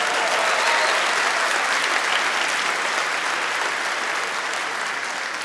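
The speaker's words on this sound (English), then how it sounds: "round of applause for the millennials" An audience at a live generational-humour talk breaks into loud, sustained applause, dense clapping filling the room steadily from start to finish and fading only slightly at the end.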